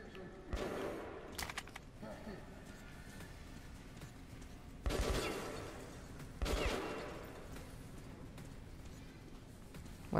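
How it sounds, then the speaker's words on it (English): Enemy gunfire in the shooter game Metro: Last Light Redux: a few muffled, faint shot bursts crack out sporadically over low in-game ambience, with a voice talking at times. "Where is that motherfucker shooting from?"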